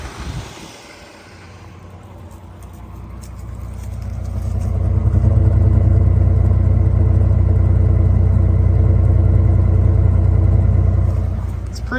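A 1984 Ford LTD wagon with an oil leak and an unrebuilt carburetor runs steadily nearby, its deep, even engine rumble swelling and then holding constant, with someone talking over it.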